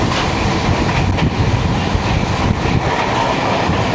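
Jan Shatabdi express made up of LHB coaches running at high speed, with a steady loud rumble of wheels on rails and faint rhythmic clickety-clack of rail joints throughout.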